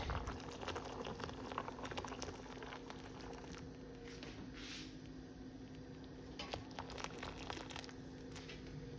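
Boiling water poured over salted groundnuts fizzes and crackles faintly, a soft continuous bubbling with light patter and crinkling, close but quiet, with no voices.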